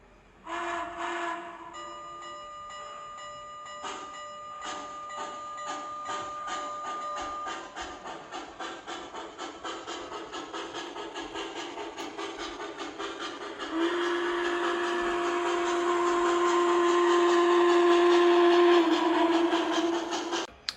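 An MTH HO scale GS-4 model steam locomotive runs steadily with a continuous mechanical hum and rhythmic chuffing from its sound system, plus long sustained whistle tones, growing louder and fuller toward the end; no talking.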